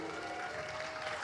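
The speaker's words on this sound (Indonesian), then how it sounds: "Silakan Kanjeng Gusti, tepuk tangannya teman-teman lebih meriah lagi dong." Audience applause welcoming a guest speaker, Kanjeng Gusti Pangeran Adipati Arya Mangkunegara X, at a forum on creative industries and cultural heritage; dense, even clapping throughout, with a faint steady tone running beneath it.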